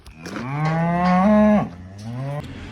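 A single long, loud cow moo rising and holding, then trailing into a second lower moo nearby, from a cow with a sore back right foot.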